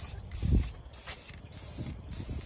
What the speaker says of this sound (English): spray painting these